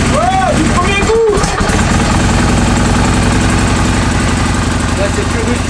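Yamaha Royal Star 1300 V4 motorcycle catches on the first try, then settles into a steady, loud, throbbing idle right beside the listener.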